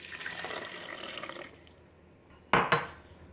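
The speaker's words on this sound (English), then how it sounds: "So what I'm gonna do is I'm gonna dump a little bit of water in here." Water poured into a blender bottle for pancake batter, a rushing splash that fades out, followed by two sharp plastic clacks of the bottle close by.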